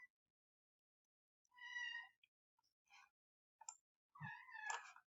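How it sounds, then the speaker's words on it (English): A house cat meows indoors several times in short, separated calls, fairly close and clear against an otherwise quiet room. "That's my cat you're hearing."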